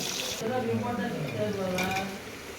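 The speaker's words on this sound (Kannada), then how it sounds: "ಎಣ್ಣೆ ಕಾಯ್ತಾ ಇದೆ ಸ್ಪೈಸಸ್ ಎಲ್ಲ ಹಾಕೋತಾ ಇದ್ದೀನಿ ಆಮೇಲೆ ಚೆನ್ನಾಗಿ ಉರ್ಸ್ಕೋಬೇಕು" Whole spices fry and get stirred in about 200 ml of hot oil for mutton donne biryani, a close, soft sizzle with scraping stirs, under a voice speaking.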